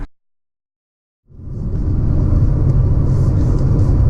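A 2018 Honda Clarity Touring heard from inside while driving on the road, starting after a moment of silence and settling into a steady, loud low rumble of road and cabin noise with no talking.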